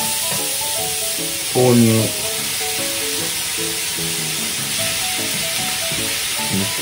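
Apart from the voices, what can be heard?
thinly sliced vegetables sizzling as they are stir-fried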